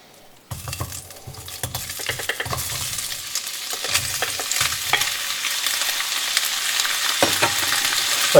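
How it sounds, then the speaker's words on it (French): Ground meat hits a hot frying pan and sizzles steadily, the hiss growing louder as it is stirred, while a utensil scrapes and knocks against the pan in repeated bursts, close up and with no talk. "Ça commence à grésiller."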